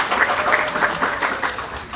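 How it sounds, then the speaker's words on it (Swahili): An outdoor crowd at a public meeting claps together in a loud, rhythmic burst of applause, the individual claps pulsing steadily for about two seconds without speech. "hebu tujipigie makofi."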